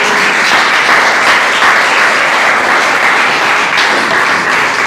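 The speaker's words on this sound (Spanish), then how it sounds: "Denle un fuerte aplauso al Señor entonces." A church congregation applauding during a sermon, a loud, dense, continuous roar of clapping that fills the whole short stretch without pause.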